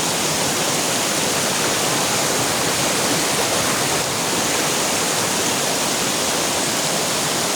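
Strong rushing water pouring down a Konkan waterfall, a loud, dense and unbroken roar that stays steady throughout with no voices.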